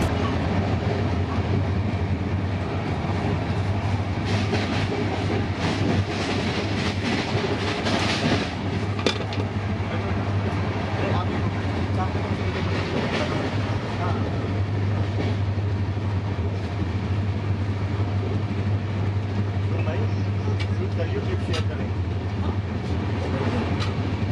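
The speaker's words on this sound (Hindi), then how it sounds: "हमारा भी डिपार्चर हो चुका है हजरत निजामुद्दीन रेलवे स्टेशन से, और अब बारी है रफ्तार पकड़ने की" Gatimaan Express train pulling out of Hazrat Nizamuddin station and gathering speed, heard from inside as a steady loud rumble with rhythmic clickety-clack of wheels over rail joints throughout.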